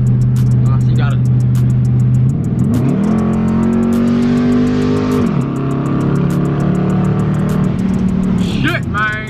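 SRT8 Dodge Charger accelerating hard on a freeway toward top speed, the engine droning loud and near, climbing in pitch through a gear, dropping back, then building again, with a voice speaking briefly over the roar.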